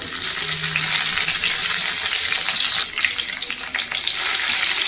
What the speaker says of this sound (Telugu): నాలుగైదు ఎండుమిరపకాయలు వేస్తున్నాను దీంట్లోనే వెల్లుల్లి కరేపాకు వేస్తున్నాను